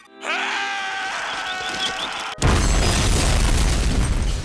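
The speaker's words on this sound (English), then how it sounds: "It's kind of a stupid feature, but the explosion itself is no joke." A cartoon robot invention of Plankton's self-destructs: a wavering, siren-like electronic tone rises and holds, then cuts off into a sudden loud blast that roars on steadily to the end.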